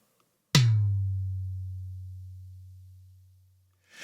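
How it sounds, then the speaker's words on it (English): A single tom drum hit picked up by a C414 microphone under the drum, a sharp attack followed by a long, low, steady sustain that slowly fades over about three seconds, alone and close. "we did a tom bottom mic"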